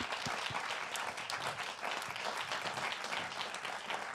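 Audience applause at a live Occitan music show in Toulouse, a steady even wash of many hands clapping throughout, moderately distant and without talk.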